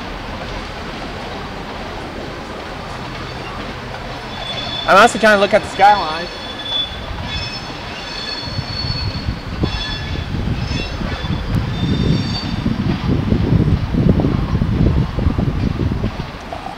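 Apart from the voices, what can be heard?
train passing by near Tulsa International Airport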